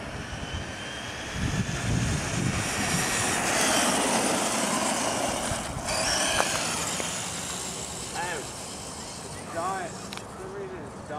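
A Traxxas E-Revo electric RC truck bashing around a yard gives a whirring motor drone that rises and falls as it speeds about, with people talking nearby.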